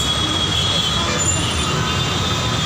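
Metro train at Miyapur metro station, heard as a loud, steady rumble with high wheel squeal and rail noise close by, continuous throughout with no talk.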